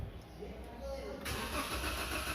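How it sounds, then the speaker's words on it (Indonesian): A Toyota Avanza with an EFI fault cranks but fails to fire after a 7.5 A AM2 fuse is refitted. The starter churns close by for a couple of seconds and the engine never catches. "mobil sudah bisa di start, namun mesin belum bisa hidup"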